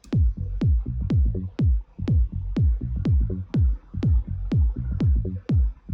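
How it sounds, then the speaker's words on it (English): A minimal house kick drum thumps in a steady four-on-the-floor pulse, about twelve hits, with a deep sidechained bass ducking between beats, loud and upfront with no voices. "if you have the bass and the kick playing together and they sound like a track, you have a good track"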